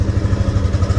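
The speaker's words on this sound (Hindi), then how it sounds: "चल पड़ी बाइक एंड अभी चला के देखते हैं कैसी है" A Yamaha FZ V3 motorcycle engine runs close by with a steady, throbbing low rumble, brief and without any clear revving.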